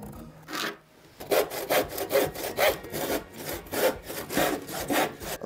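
A hand saw cuts a wooden plank for a birdhouse wall in steady back-and-forth rasping strokes, about ten even strokes close up after a brief start, with no talking.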